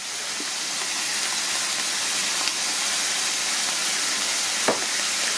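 Whole cumin seeds sizzling in hot oil while making Kenyan samosa filling, a steady broad hiss that stays even throughout, with a couple of faint ticks; no talking.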